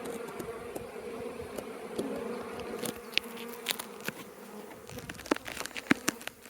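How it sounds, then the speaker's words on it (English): A steady, close hum of many honeybees buzzing and fanning at a hive entrance, with occasional louder individual bees darting past. "see the bees on the top fanning away, telling everyone where they are and what's going on"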